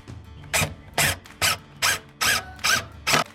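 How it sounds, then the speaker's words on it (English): Two-inch self-tapping screws driven one after another into the sides of a wooden coffee table box, giving seven short, close whirring bursts from a power driver in an even rhythm with brief pauses between. "Alex just took some self-tapping screws and screwed around the outside of the box"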